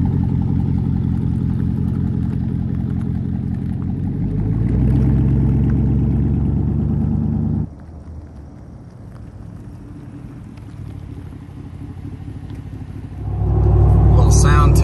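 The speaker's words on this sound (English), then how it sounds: "Little sound test with the Land Spider Wildtraxx MTs" Loud steady road roar and tire hum from Land Spider Wildtraxx MT mud-terrain tires, size 33, on a leveled GMC Sierra truck driving along, dropping in level midway and then surging again, with someone talking over it.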